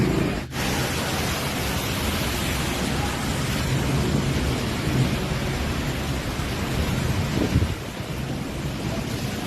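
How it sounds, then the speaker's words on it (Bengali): Heavy, dense rain roaring steadily in the Sikkim hills during a cyclone storm, with deep thunder rumbling beneath it, loud and continuous throughout. "আর সঙ্গে প্রচণ্ড বৃষ্টি, প্রচণ্ড বৃষ্টি।"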